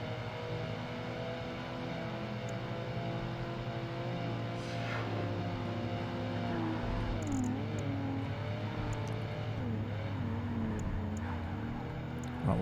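Lotus and Caterham cars racing in Project Gotham Racing 2, with steady, loud engine drone and shifting revs running throughout, punctuated by brief higher whines as the cars jostle for position.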